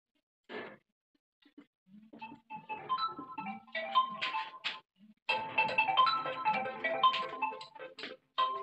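A mobile phone ringtone plays a melodic electronic tune in a classroom. It starts with a short beep, then runs as a continuous tone sequence for several seconds. The sound is fairly faint and no one is speaking.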